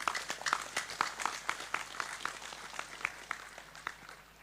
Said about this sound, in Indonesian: Ayo, tepuk sing banter, gak usah sungkan-sungkan.